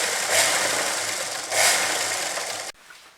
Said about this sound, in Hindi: इस कॉलर के ऊपर की तरफ आप गोलाई में सिलाई लगा लीजिए